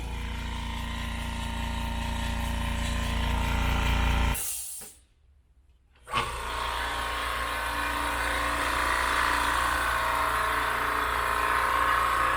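Fortress 10-gallon ultra quiet air compressors running with a steady, fairly high-pitched motor drone that cuts out for about two seconds midway, then resumes at full level.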